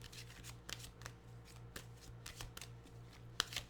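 Tarot cards are shuffled by hand in quick, soft riffling bursts, close and quiet, with a few sharper snaps of card edges near the end and no talking.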